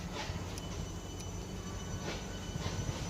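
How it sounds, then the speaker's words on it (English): A passenger train departing a station at Belvedere, with a steady low rumble of wheels on track and faint squeals, heard from the platform at moderate distance. "And it's now departing, because it is running on time."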